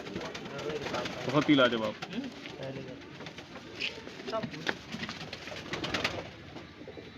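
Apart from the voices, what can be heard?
desi high flyer pigeons cooing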